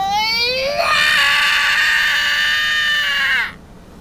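A young child lets out one long, loud, piercing scream lasting about three seconds while struggling to get out of his seat, rising sharply and then cutting off abruptly.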